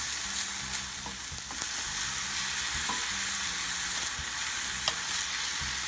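Vegetables stir-frying in a pan give off a constant crackling sizzle, broken by occasional clinks and scrapes as they are tossed and stirred close by.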